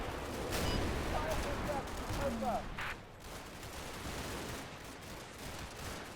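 Mortar blasts and gunfire crackle through a WWII strategy game battle, a dense, steady barrage with a few sharper bursts standing out, while someone talks over it.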